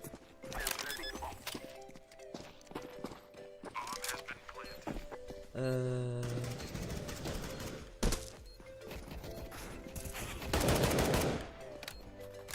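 Rapid bursts of Galil rifle fire in the video game Counter-Strike crackle through the game's background sounds. Someone talks at times, and other synthetic game tones come and go.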